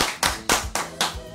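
A few people clap in a studio on a Brazilian forró music program, four bursts about a quarter second apart, close and fairly quiet, with no voices over them.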